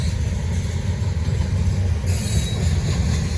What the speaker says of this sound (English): They literally got to split the train in two. They got 169 loads.